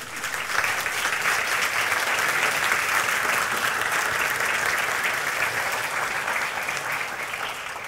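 A church congregation claps loudly and steadily for several seconds during a worship service, a dense sustained applause with no speech over it.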